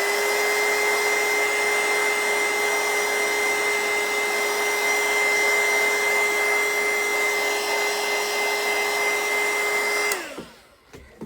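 Handheld craft heat dryer blowing to dry a spot of paper ephemera for a journal, a loud, steady whine with a constant whirring tone that runs without a break for about ten seconds and then switches off and spins down.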